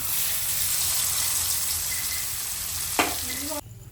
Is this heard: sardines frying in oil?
yes